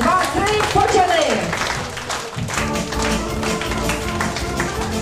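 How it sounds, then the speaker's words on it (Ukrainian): A crowd claps steadily in rhythm alongside music and voices during a romantic marriage proposal, the applause continuing throughout at a moderate, lively level. "Підтримуємо їх оплесками."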